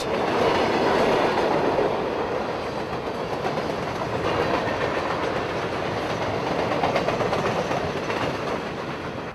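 Q604, a mixed freight train running from Winston Yard to Waycross, Georgia, rolls past at St. Catherine, Florida, with a loud, continuous rumble and clickety-clack of wheels that stays close throughout, no talking.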